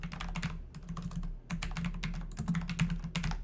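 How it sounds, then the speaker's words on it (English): Rapid clicking of keys on a computer keyboard, close and crisp, in quick uneven bursts with a brief pause midway, over a low steady electrical hum and no talking. "I could potentially type in"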